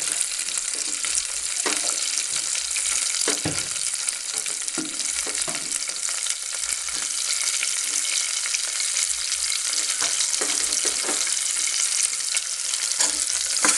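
Green chillies frying in a pan until brown make a dense, even sizzle throughout, close and steady, with faint scrapes of stirring now and then and no voices.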